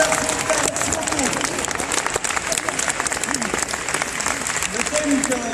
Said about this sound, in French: Je vous invite à applaudir les organisateurs de cet événement